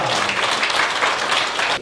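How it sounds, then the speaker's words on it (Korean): Audience applause at a neighborhood safety council workshop, a steady wash of many hands clapping throughout, fairly loud and continuous with no speech over it. "다시 한번 이 세 분께 박수 부탁드리겠고요"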